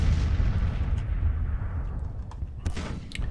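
Civil War artillery in the Grand Tactician strategy game, rolling low cannon booms that rumble and fade, with a few sharper distant reports following, and no voices.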